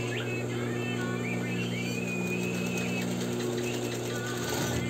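A sewing machine stitches a welt pocket, a steady continuous motor hum with a rapid needle rhythm running the whole time at moderate level, no voices over it.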